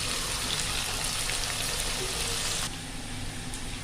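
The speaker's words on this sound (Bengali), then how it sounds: "আলুগুলো ভাজা হতে থাক" Potatoes frying in hot oil in a home kitchen for beef kacchi biryani, a steady dense sizzle and crackle that drops slightly softer near the end, with no talking.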